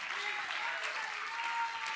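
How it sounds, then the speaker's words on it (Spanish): Church congregation clapping in praise during a Spanish-language sermon, a steady dense wash of many hands filling the whole moment with no speech over it. "Dele palmas de alabanza si puede hacerlo"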